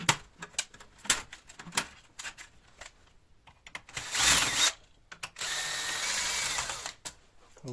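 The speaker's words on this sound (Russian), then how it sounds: "Откручиваем." A power screwdriver backing out screws while a printer is taken apart for copper, close and loud: quick ratcheting clicks and short taps, then two sustained whirring bursts of the driver.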